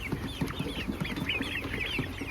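Chickens at 35 days old, around 600 grams, cluck steadily in a dense flock, short repeated clucks overlapping with higher peeping calls, close and fairly loud with no talk.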